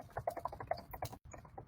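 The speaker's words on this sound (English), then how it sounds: "sorry for the typing." A computer keyboard is typed on in quick, uneven bursts of soft clicks, fairly faint and close, with a brief pause before the tapping resumes.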